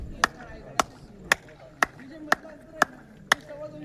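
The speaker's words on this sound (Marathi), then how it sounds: "एक टाळी वाजवली की 4 आवाज येतो बघा" A single hand clap at Raigad Fort returns as a chain of sharp, evenly spaced echoes, seven crisp cracks in about four seconds ringing off the stone with faint murmuring between them.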